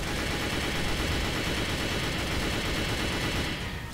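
Dense, continuous gunfire from the Mad City video game, a steady loud barrage of rapid shots with no pauses, easing slightly at the very end.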